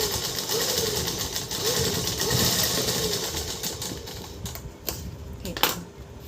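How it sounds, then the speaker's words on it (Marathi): A sewing machine stitches the curved, rounded part of a Ganpati feta, a steady whirring chatter that runs continuously and close up before breaking into a few sharper knocks near the end. "राऊंडवर ज्या वेळेला शिलाई मारायचा प्रश्न येतो त्यावेळेला आपल्याला ॲडजस्ट करत करतच शिलाई मारावी लागते"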